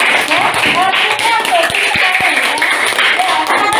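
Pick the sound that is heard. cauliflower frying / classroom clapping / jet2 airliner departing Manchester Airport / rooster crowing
classroom clapping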